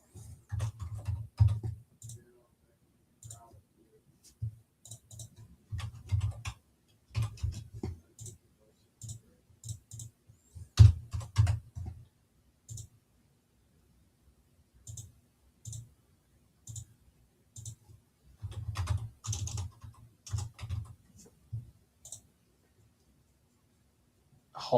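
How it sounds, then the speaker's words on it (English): Keys are typed on a computer keyboard in irregular bursts of clicks with pauses between, close and fairly quiet, with no talking over them. "Let me just type it in right here."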